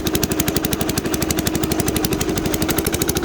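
A small diesel engine swapped onto a Sears garden tractor runs with a fast, steady, hard chatter. A blown exhaust gasket adds a loud, raspy ticking puff to every firing pulse, close and alone.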